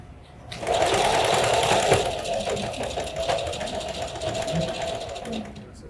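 A sewing machine stitches fabric at a steady, continuous buzz for several seconds, close and fairly loud, with people talking over it as the stitching is guided.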